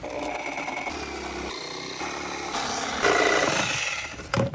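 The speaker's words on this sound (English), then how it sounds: "now we're going to use a hole saw" A hole saw bores through the wall of a subwoofer box for a 1997 Mazda Miata, a steady dense grinding whine that holds for several seconds, rises in intensity near the end and then cuts off abruptly.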